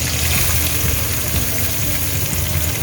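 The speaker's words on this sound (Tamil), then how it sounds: "இப்போ வந்து இந்த ஆனியனை சேர்த்துக்குவோம்" Onions frying in a pan for a Tamil-style onion chicken gravy give a steady, dense sizzle with crackling, close and continuous throughout, with no voices over it.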